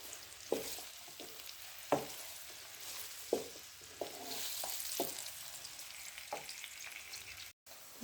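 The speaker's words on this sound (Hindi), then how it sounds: "पैन में डाला है घी। घी को होने देंगे गरम और डाल देंगे 2 बड़े साइज के प्याज। और प्याज को कर लेंगे ब्राउन।" Onions sizzle and fry in hot ghee in a pan, a steady crackling hiss broken by several sharp scraping stirs at irregular intervals, close and moderately loud with no talking.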